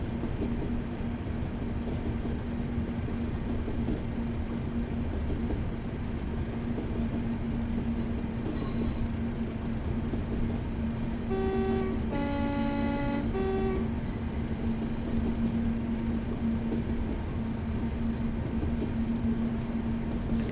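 A BLS locomotive in Train Simulator Classic drives with a constant low engine drone and rail rumble, interrupted midway by a loud, bright multi-tone horn blast and a shorter toot later on.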